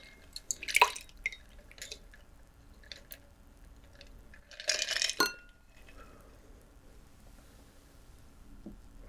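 A Scotch cocktail is poured, giving soft close-up liquid drips and splashes in two short bursts with quiet pauses between them, in a hushed bar setting.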